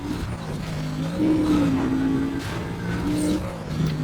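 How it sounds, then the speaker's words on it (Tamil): A car engine in the Need for Speed Most Wanted racing game revs steadily, its tone rising and falling in loud, continuous sweeps. "பாருங்க கார் சவுண்டு எப்படி கேட்குது பார்த்தீங்களா, அந்த காரோட சவுண்டு"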